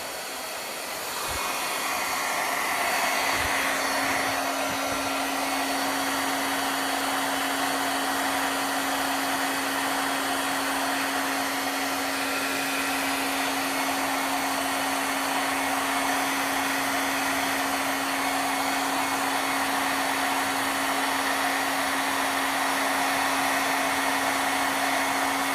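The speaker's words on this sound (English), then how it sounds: "I'm just going to use a Wagner embossing tool real quick" A Wagner heat embossing tool blows hot air with a loud, steady fan roar and a constant whining hum, running nonstop for about twenty-five seconds at close range after a brief start-up.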